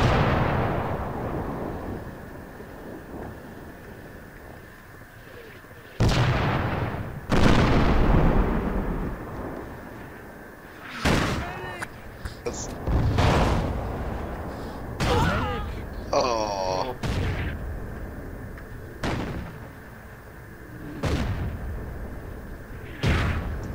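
Heavy artillery and explosions in the military game Project Reality, a series of deep booming impacts spaced a few seconds apart over rumbling battlefield ambience, with radio chatter and voices in between.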